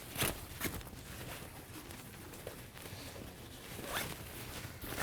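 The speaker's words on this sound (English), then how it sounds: "Zip that side and start loading it from the top." Close, quick zipper pulls on the side pocket of a KUIU hunting backpack, a few brisk scratchy strokes in a quiet room.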